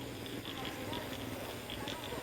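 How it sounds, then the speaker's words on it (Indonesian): A dense nighttime chorus of croaking frogs, continuous and layered with rhythmic pulses over a steady background hiss. "itu suara asli kodok loh"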